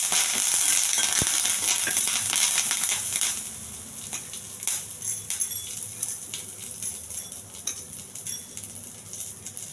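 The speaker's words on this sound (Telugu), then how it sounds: "పల్లీలు కొంచెం దోరగా వేయించాలి." Peanuts frying in a little oil in a pan until golden, a steady crackling sizzle that is louder at first and then settles, with occasional utensil clinks and stirring scrapes.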